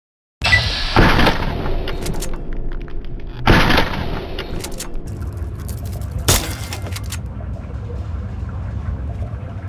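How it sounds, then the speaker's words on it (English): A BB gun fires at a radroach in Fallout 3. Three sharp, loud shots are spaced a few seconds apart over a low steady hum, each snapping off quickly. "Think you can take care of that with your BB gun? Just aim and shoot."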